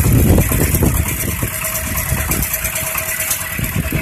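A walk-behind tractor (motoblock) engine idles close by with a steady, loud, rough mechanical chug and vibration, no voices.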